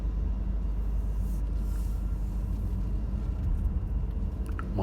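A car driving through the streets of Monte Carlo, Monaco, heard from inside as a steady low engine and road rumble with no voices.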